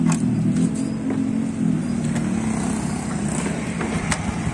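A TVS 110 motorcycle engine runs after a CDI conversion, idling with a low steady putter and a few slight revs, close by with no talk.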